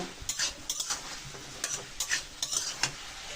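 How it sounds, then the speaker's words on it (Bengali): Potatoes and shrimp frying in an uncovered pan give a soft sizzle under repeated clinks and scrapes of a metal spatula stirring against the pan. "এই যে ঢাকুন খুলে খুলে ভাজিয়ে নেব"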